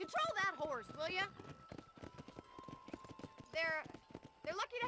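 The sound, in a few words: horse galloping hooves in the video game Red Dead Redemption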